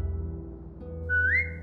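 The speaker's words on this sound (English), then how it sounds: "Now whistle and tell her to lie down." In The Walking Dead video game, a single short, rising whistle is aimed at a dog. It is clear and close, over a low steady hum from the game's background.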